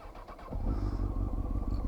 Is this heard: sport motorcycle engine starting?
yes